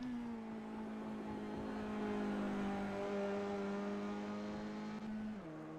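Engine drone from Mazda MX-5 race cars lapping the circuit in qualifying. It holds at a steady pitch, then drops sharply near the end as a car shifts down or lifts, heard from some distance with no speech.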